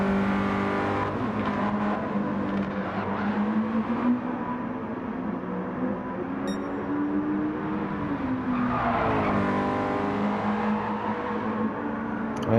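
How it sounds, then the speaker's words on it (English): Race cars lapping Brands Hatch in a sim racing game, engines droning loud and continuous with pitch rising and falling through gear changes and corners, one engine note swelling sharply near the end; no talk. "Sim and Jock now hitting turn 2, both of them utilizing the same exact racing line"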